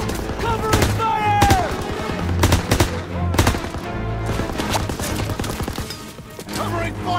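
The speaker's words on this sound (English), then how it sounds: "Covering fire on the MG!" Bursts of machine gun fire and scattered gunshots in the World War II shooter game Call of Duty WWII, loud and close, with sharp repeated cracks mixed with shouted voices over a rumbling battlefield.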